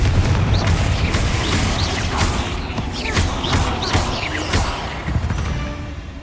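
A spell blast in the video game Hogwarts Legacy sets off a loud, dense rumble of booms and crashing debris that runs continuously through the whole stretch, without talk.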